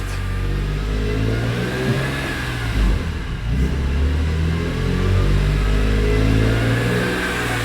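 A BMW E46 M3 with an S54 engine accelerates hard, tires spinning up; the engine note climbs in pitch through revs, dips briefly around a shift, then pulls loudly again, close and continuous.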